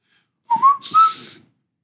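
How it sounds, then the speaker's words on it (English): A person whistles a short, clear rising-and-falling tune alone, a few quick connected notes with breathy hiss, close to the microphone, with no talking. "She can't whistle properly"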